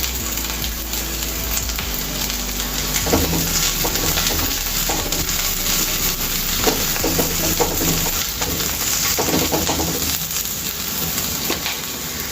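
Chopped cabbage stir-fried in a pan for paneer fried rice, with a steady sizzle broken by repeated scraping and tossing strokes of a spatula, close and fairly loud, with no talking.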